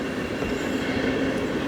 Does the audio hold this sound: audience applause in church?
no